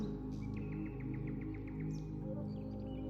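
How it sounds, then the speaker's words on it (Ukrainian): A bird sings a quick series of bright, evenly spaced chirps over a steady low hum, with a few faint extra calls afterward. "Наближаються звуки природи, спів пташок, шум водоспаду."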